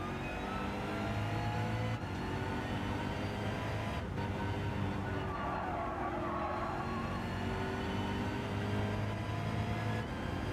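A BMW race car's engine in the Gran Turismo 7 racing game drones loudly and continuously under acceleration, its pitch holding fairly level throughout with no talk over it.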